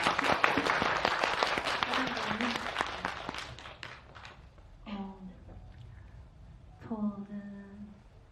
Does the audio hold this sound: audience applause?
yes